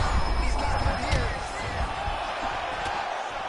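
Arena crowd noise from a UFC 5 fight night event in the video game, a steady roar of cheering and whoops at moderate loudness, with no one talking over it.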